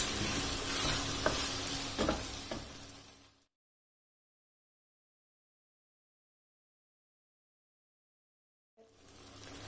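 A chilli potato mixture with tomato ketchup being stirred and fried in a pan, making a steady close sizzle with scraping stirs that breaks off into a long silence before the frying resumes, and no one speaking.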